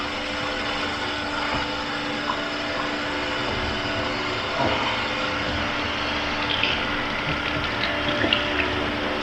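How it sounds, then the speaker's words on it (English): Cold tap water runs steadily into a kitchen sink while a steak is rinsed, a continuous close hiss and splash with no talking. "and cold water, and we're gonna rinse it off"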